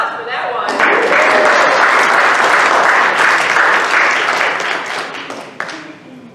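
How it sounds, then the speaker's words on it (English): A church congregation bursts into applause at a Sunday service: a loud, dense wave of clapping that swells quickly, holds, and then tapers off, with a few stray claps near the end. "I think we need an applause for that one."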